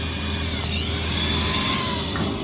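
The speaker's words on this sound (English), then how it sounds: "drill a half inch hole through both pieces and drive a piece of rebar in there" Power drill boring a half-inch hole through stacked railroad crossties for a rebar pin, a steady continuous whine and grind held close and loud for the whole stretch.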